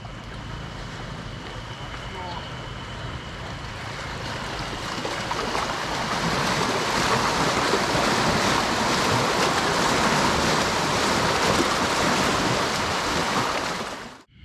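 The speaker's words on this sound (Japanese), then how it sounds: "波来たよ波。" Waves on Lake Shikotsu in Hokkaido in June wash against the shore and a submerged pier in a continuous, loud rushing roar. The sound swells slightly partway through, then cuts off abruptly.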